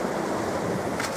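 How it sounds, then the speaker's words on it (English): Steady wash of sea waves and wind noise around a sailboat on open water on a calm, misty morning, a continuous broadband rush with no talk. "So the waves are a bit playful this morning."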